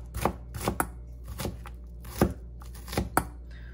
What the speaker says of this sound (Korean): 와, 오늘 칼질 진짜 안 되네.